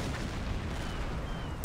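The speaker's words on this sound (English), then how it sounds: "what with all of the fire and explosions that are happening" Gunfire and explosions during a naval battle at a port in the submarine game Silent Hunter 5, a continuous low rumble of distant fire with one sharp crack near the end.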